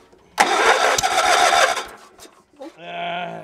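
A gasoline engine on a wood splitter, running on old gas, cranks and catches with a loud, rough burst, then falters and drops off before a lower, steadier hum takes over.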